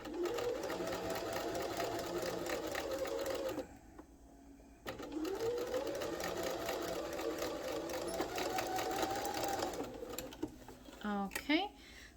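Close, steady whirring of a sewing machine stitching a curved seam on a fabric face mask, in two long runs split by a short pause, ending with a few scissor-like clicks.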